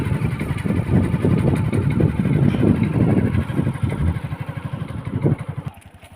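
Motorcycle engine droning steadily and loudly while riding through a forest park, a continuous rough rumble that tapers off near the end.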